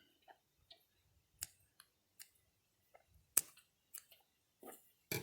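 Scissors snip through washed smartweed leaves, a series of about a dozen short, crisp cuts spaced irregularly, close and quiet against near silence.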